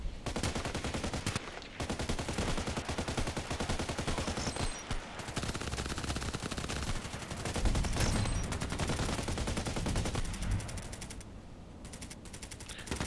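HK 417D assault rifle firing in a video game, rapid repeated gunshots in quick bursts with short pauses between volleys, loud and close.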